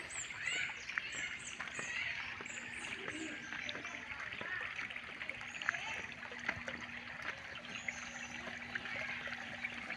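Spring-fed water flowing in a steady, fairly faint trickle, with small splashes and birds chirping nearby.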